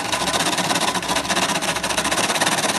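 A sewing machine at maximum stitch width hums and chatters in a fast, steady rhythm while stitching along the lower hem of a blouse sleeve; close, continuous and alone.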